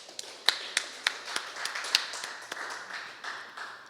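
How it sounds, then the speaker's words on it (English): An audience at a lecture claps for the speakers, a sparse run of distinct, fairly crisp claps in a loose steady rhythm rather than a full roar of applause. "So let us put our claps together for the contributions of Dr. Sahadio Basdeo and Brother Winston Dukaran"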